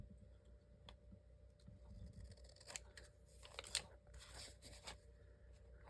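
Small scissors snip paper trim for a handmade tag book, a run of quick, close crisp cuts that quicken and bunch together midway, faint and quiet, with no talking.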